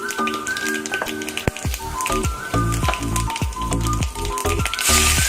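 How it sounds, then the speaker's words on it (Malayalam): Mustard seeds splutter in about three tablespoons of hot sesame oil in a pan for a sadhya-style mango pickle. Sharp pops burst repeatedly over a continuous sizzle, close and fairly loud. "ഒരല്പം കടുകിട്ട് പൊട്ടിക്കുന്നുണ്ട്."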